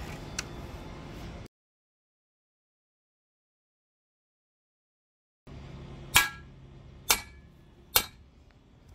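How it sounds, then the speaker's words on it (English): A heavy duty metal fence post repair stake being hammered into the ground beside a fence post: three sharp, separate strikes about a second apart, close and loud over faint background noise after a stretch of silence. "I'm just gonna hammer it in."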